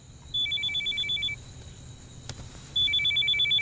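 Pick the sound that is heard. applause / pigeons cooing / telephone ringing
telephone ringing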